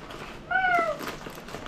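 A single drawn-out meow, rising then falling, voiced by a person imitating a cat, short and fairly close.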